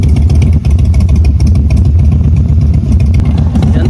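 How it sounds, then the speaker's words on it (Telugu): A Texas chopper motorcycle engine runs outdoors with a loud, steady low-pitched beat and clattery mechanical texture, close to the listener and without any talk. "ఆ బైక్ బీట్ చూడండి ఎలా ఉందో"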